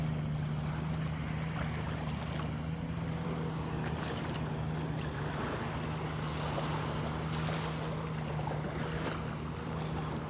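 Boats heading out on the ocean from a beach produce a steady low motor hum that lasts throughout, distant and continuous, mixed with wind noise and faint surf.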